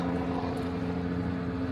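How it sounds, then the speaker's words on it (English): A helicopter hovering directly overhead at a theme park entrance, a faint steady droning rotor hum with a low tonal throb and no talk. "I don't know if you guys can hear because there's a helicopter right above me."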